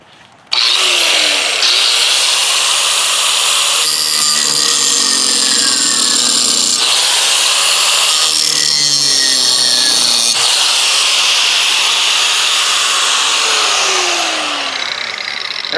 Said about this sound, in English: Now I'll have to cut these off here before I drill down through the deck. I have to get my grinder wheel out again.